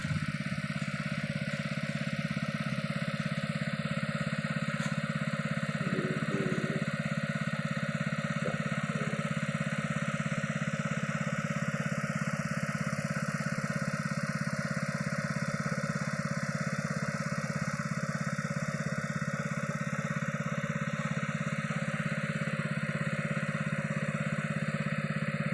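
A Honda Mega Pro motorcycle engine idles steadily and loudly throughout, a continuous close mechanical hum with light clatter and no breaks.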